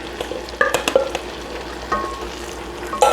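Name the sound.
stirring franks and beans in a pot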